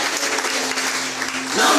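Church congregation clapping, a steady dense applause from many hands filling the space, with a voice faintly underneath.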